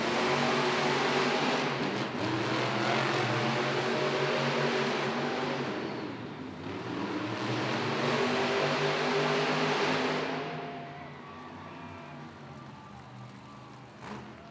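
Monster trucks race in an arena at a Monster Jam event in Hampton, Virginia, engines roaring loud and sustained, surging and swelling twice before easing off near the end.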